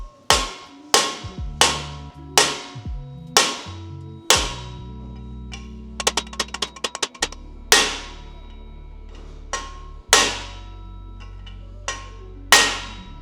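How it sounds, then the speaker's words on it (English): Sharp metallic hammer blows ring out one at a time as a wheel hub is seated onto a drift kart's rear axle, with a quick rapid flurry of lighter taps midway, then more single strikes. "then you carefully, lightly hammer in until the wheel hub is fully seated"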